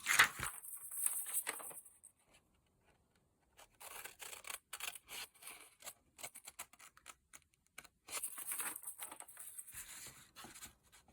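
Paper being cut with scissors for a boxy envelope, a close series of crisp snips and rustles in two bursts at the start and end with quieter sporadic handling between, no talking.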